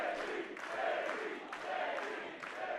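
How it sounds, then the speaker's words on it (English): Wrestling fans roar in steady support of Davey Richards during a Ring of Honor match against Roderick Strong, a dense, continuous crowd noise of cheers and shouts with rhythmic surges, loud and enveloping throughout. "Crowd showing their support for Davey Richards."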